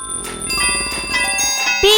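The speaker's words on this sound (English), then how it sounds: "Bell." A bright bell rings with clear metallic tones and sustained shimmering overtones, one strike layered into the next, in a children's alphabet show about everyday objects.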